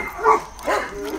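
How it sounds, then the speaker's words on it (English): A neighbour's dogs bark in two short bursts, the second slightly longer, heard at moderate distance outdoors with a quiet pause between them. "about to set off the neighbour's dogs"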